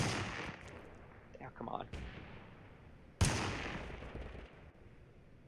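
Video game gunfire in TABG from an inaccurate, hard-recoiling weapon, sharp loud shots with one especially strong close blast near the end, while a voice speaks briefly over it.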